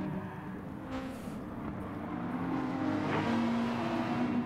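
A racing car in a racing video game drifts and slides, its engine note rising from a rough drone into a sustained revving whine, steady and fairly close, with no talk over it.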